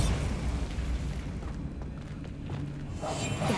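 Bombarda spell explosion in Hogwarts Legacy, a loud rumbling blast that fills the whole clip with a broad roar, easing slightly midway before swelling again.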